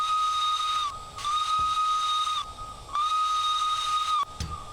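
A steam locomotive whistle in the railway simulator game Derail Valley blows three sustained, clear tones separated by short pauses, with soft hiss and mechanical clunks underneath.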